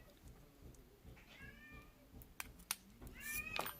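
A pet cat meows a few times close by in a workshop, wanting to be let inside, with short rising cries over faint background rustling and no talk.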